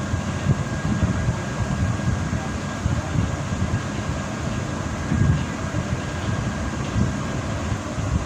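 Islamabad metro train running, a steady low rumble and rolling mechanical drone that continues evenly throughout, with a faint constant whine above it.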